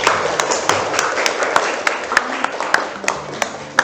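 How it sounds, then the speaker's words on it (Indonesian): A classroom of students claps hands together at the end of an accounting lesson, with sharp, evenly spaced claps standing out over a dense, steady wash of room noise and crowd chatter. "Oke, tepuk tangan semuanya."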